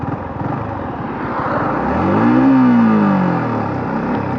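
Engine of a Yamaha MT15 V2 motorcycle starting and running steadily close by, a loud broad roar with a brief rising whine as it catches, no talking.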